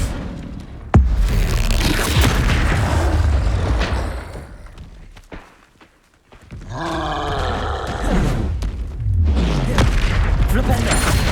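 Confringo spell blasts from combat in the video game Hogwarts Legacy land as loud booming explosions mixed with roars and grunts, fading briefly to near silence midway before another burst of rumbling impacts.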